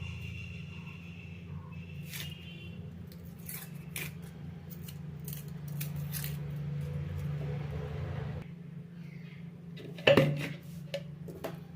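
Onions sliced into strips for Maggi pakoda in a home kitchen: soft, irregular cutting clicks over a steady low hum, with a louder clatter of a utensil near the end.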